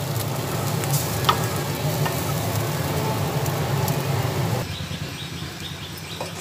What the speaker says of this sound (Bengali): এটা ভালোভাবে নাড়াচাড়া করে করে এটাকে শুকিয়ে নেব।